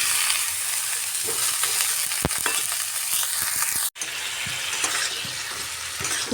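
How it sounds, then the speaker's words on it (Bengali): Cauliflower florets sizzling in hot oil give off a constant bright hiss with scattered pops and stirring scrapes, heard close with no voices. "ফুলকপিগুলো একটু কড়া করে ভাজবো"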